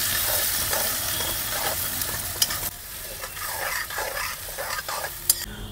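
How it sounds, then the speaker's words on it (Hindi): Onions fry in refined oil with bay leaves for a chicken curry, hissing steadily while a spoon scrapes and stirs through them in repeated strokes. The sound is close, with the sizzle fading a little partway through and no speech. "बढ़िया से प्याज को भाई लाल करते हैं।"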